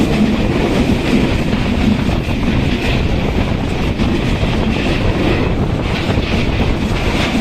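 The Kurigram Express runs at speed, a loud, continuous rumbling roar heard from on board, with a rolling rattle of wheels and wind buffeting throughout.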